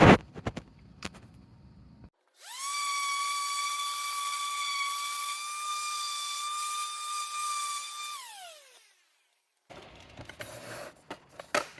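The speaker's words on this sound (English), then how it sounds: "clearly an orbital sander makes very quick work of that" An orbital sander with 320-grit paper smooths the first coat of a repair on a rusty Volkswagen Jetta rocker panel, a steady high whine with strong overtones that starts abruptly and holds for several seconds before winding down.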